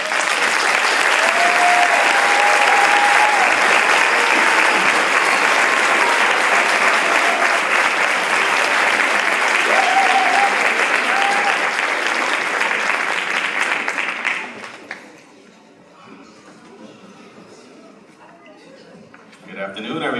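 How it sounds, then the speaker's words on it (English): A crowd at a high school graduation ceremony claps loudly and steadily for about fourteen seconds, with a few voices calling out, then the applause fades to quiet room sound. "please help me give a round of applause to our support system."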